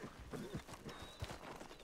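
Horses' hooves clip-clop in the western video game Red Dead Redemption, a quick uneven run of soft thuds over a low background, fairly faint and close.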